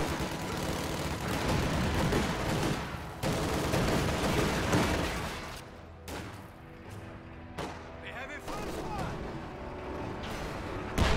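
A Sherman tank firing on a machine gun post in a building during a World War II strategy game battle, continuous rattling gunfire and heavy booms, loud and layered, with a calmer stretch midway before the shooting picks up again.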